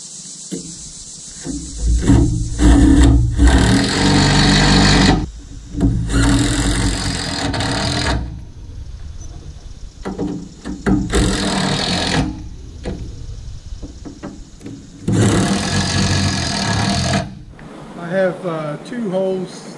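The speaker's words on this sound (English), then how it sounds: "I gotta get the rest of these screws in this board and these two boards" Cordless power driver runs screws into wooden deck boards on a 20-ton tilt deck trailer under refurbishment, loud whirring bursts of a few seconds each, separated by pauses, with a voice in between.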